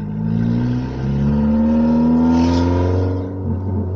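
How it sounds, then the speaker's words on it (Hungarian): An Opel 2.0i car engine revs hard in second gear nearby, its deep rumble climbing steadily in pitch as it accelerates, then easing off. "kettesben ilyen fincsi hangja nagyon, az ez egy erős motor"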